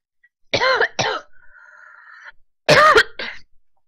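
Two quick harsh coughs, a faint electronic beep tone, then two more coughs, loud and close.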